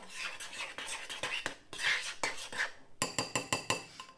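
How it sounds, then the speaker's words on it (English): A spoon stirring thick Ready Brek porridge in a bowl, with rhythmic scraping and clinking strokes, close and fairly quiet, and a quick run of sharper clinks toward the end. "Give it a stir."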